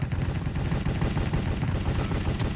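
Rapid, dense bursts of gunfire from a Minecraft cops-and-crimes match, a loud, continuous rattle of overlapping shots through the whole moment, like sustained automatic fire nearby.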